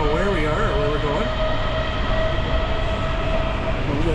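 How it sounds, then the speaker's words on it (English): An old-style metro train in Sofia, Bulgaria rumbles along steadily with a loud, continuous roar and rattle, plus brief squeals from the wheels, while a person talks over it. "It's like an old-style metro."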